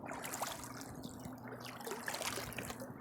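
Cold creek water trickling and gurgling over gravel in the Rogue River, a steady close babble with small splashes throughout.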